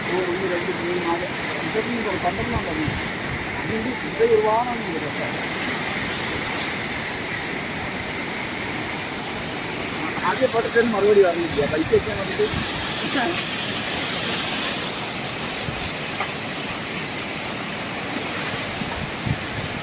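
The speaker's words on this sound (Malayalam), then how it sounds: "ഈ വെള്ളം വരുന്നത് കാണാൻ ഒരു വല്ലാത്തൊരു കാഴ്ചയാണ് പഴയ പാലം മുഴുവൻ കവിഞ്ഞു വരികയാണ്" Floodwater surges through an opened shutter and over an old bridge, a steady broadband roar of rushing water that runs the whole time, with talk heard over it.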